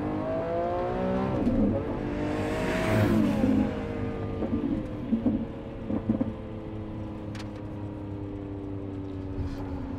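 Lamborghini Aventador with a custom exhaust, a loud close engine roar with a high-pitched edge that swells and revs, then settles into a steady rumble with rushing air.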